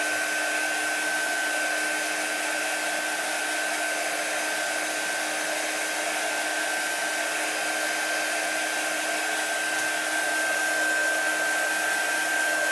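Hair dryer blowing steadily on a chalk craft project for winter decor, a loud continuous whooshing roar with a constant whine, close up and unbroken throughout.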